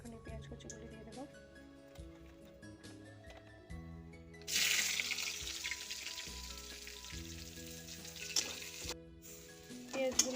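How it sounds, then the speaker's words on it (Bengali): Chopped onions dropped into hot oil with bay leaves for soybean korma, bursting into a loud, bright sizzle midway after quieter kitchen sounds, with a voice talking over parts of it. "এখানে পেঁয়াজ কুচিগুলি দিয়ে দেবো"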